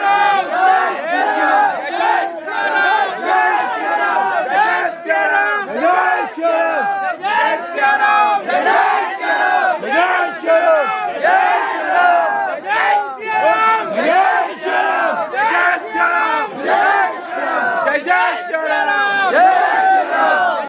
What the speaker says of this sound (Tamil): கொடியை சிலுவையின் மேல் கட்டி ஜெய் ஸ்ரீராம் என்கிற முழக்கத்தை கொடுக்கின்றனர